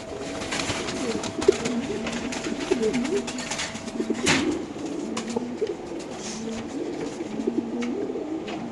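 Racer pigeons cooing steadily at a pigeon farm, several birds overlapping in soft rolling coos with a constant background hum and a few sharp knocks.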